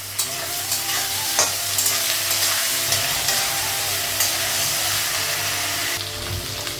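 Potatoes with green chilli and salt fry in a hot pan, with a steady close sizzle and crackle and occasional scraping stirs.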